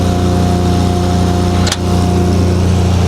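A crack sealing machine's generator runs at a steady loud hum with a constant low drone and engine-like harmonics, briefly dipping once in the middle and then carrying on unchanged.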